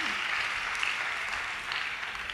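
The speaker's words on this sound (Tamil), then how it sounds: "ஜோர ஒரு கைத்தட்டு கொடுத்துருங்க கர்த்தருக்கு." Church congregation clapping for the Lord, a brief, even burst of many hands throughout, fairly loud and close, with no speech over it.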